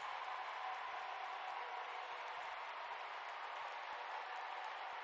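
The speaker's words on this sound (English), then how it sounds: "This is the actual crowd." A crowd-cheering track from a crowd-simulation plugin used in a mix meant to sound like a live arena concert; a steady, even wash of distant crowd noise, quiet and unbroken, with no voices up front.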